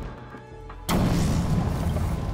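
Explosive gel detonating in Batman: Arkham City, a single sudden loud boom that leaves a long rumbling, crumbling tail after a quieter lead-in.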